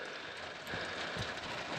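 Heavy rain falling steadily, a dense continuous hiss with scattered thumps of drops, loud and even throughout.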